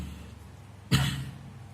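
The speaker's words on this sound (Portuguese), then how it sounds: "Deu uma crise de tosse no meio da aula" A single short cough from a teacher during a physics lesson, one sharp close burst at mid-clip against a quiet room background.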